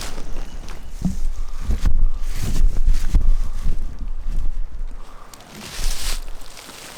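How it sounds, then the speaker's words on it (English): Wind buffeting outdoors on a wooded hillside trail during a public land turkey hunt in Mississippi, uneven gusty rumble swelling and easing, with faint rustling and footsteps underneath. "there's a noticeable difference in just the wind noise."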